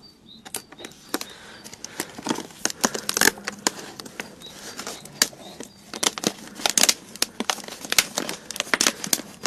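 Adhesive tape is handled and applied, producing a steady run of close crinkles, crackles and sharp tearing snaps at an uneven rhythm with no talking.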